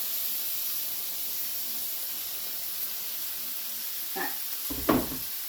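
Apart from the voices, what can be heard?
mushrooms, garlic, butter and tomatoes sizzling in a frying pan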